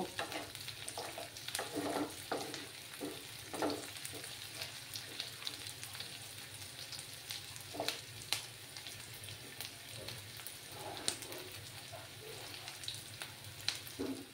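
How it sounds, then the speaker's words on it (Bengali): Slit green chillies fry in hot oil for an egg and potato dish, a steady crackling sizzle with scattered sharp pops and occasional stirring scrapes, close and fairly quiet throughout, with no voices. "দিয়ে একটু সময় লাল করে ভেজে নেব"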